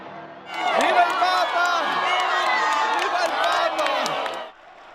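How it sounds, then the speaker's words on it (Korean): A crowd of tens of thousands in St. Peter's Square, Vatican, erupts in sustained cheering and shouting at the white smoke for a new pope, loud and continuous, with scattered whistles and whoops rising above the roar. "수만 인파가 모인 성 베드로 광장에서 일제히 환호성이 터져나오고"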